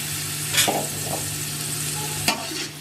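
Medium-sized chicken pieces frying in a pot, a continuous sizzle broken by a few scraping stirs of a spoon, close and clear with no talk.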